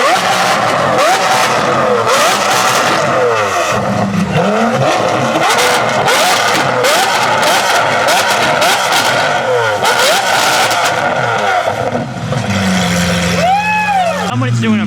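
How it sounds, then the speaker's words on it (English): Hypercars, including an SF90 Spider and an SVJ, rev their engines loudly and continuously at the Exotics on Broadway car week gathering, with rising and falling engine roars, possible tyre squeal from a burnout, and crowd chatter underneath. "and just a lot more revving."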